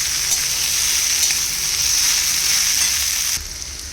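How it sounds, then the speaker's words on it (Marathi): Steady, close sizzling of potatoes frying in a pan, with faint scraping as they are stirred, easing slightly near the end. "हे व्यवस्थित मिक्स करून घेऊयात"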